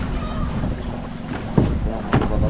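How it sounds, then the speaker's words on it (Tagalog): Strong sea waves: heavy rushing water and wind noise roar steadily, with a couple of sharper splashes breaking through near the end. "Ang lakas ng alon."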